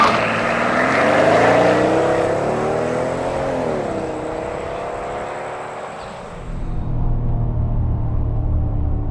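A Mercedes SL65 AMG roadster with a twin-turbo V12 accelerates hard, its engine note rising through the revs in one long pull before shifting and easing off into a lower rumble.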